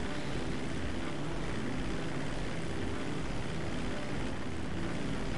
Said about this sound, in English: Jet.